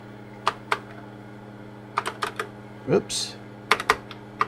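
Keys clatter on a TRS-80 Model II computer keyboard in a few sparse, uneven bursts of close clicks, with a brief spoken interjection partway through.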